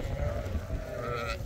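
Sheep and lambs bleat in a misty, cold village, with a wavering nearby call and a higher bleat near the end, over low background noise.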